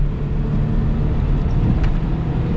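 Steady, loud engine drone of a 1995 Mitsubishi Pajero Mini revving high while driving, short-geared and high-revving, heard from inside the car as a continuous hum with no talk.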